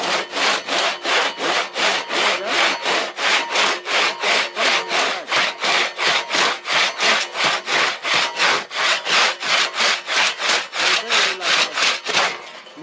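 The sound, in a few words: chainsaw cutting wood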